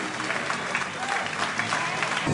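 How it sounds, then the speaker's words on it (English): Spectators at a fighting event applaud after a bout, with a continuous wash of clapping throughout the short stretch that grows slightly stronger toward the end. "Come on, big round of applause."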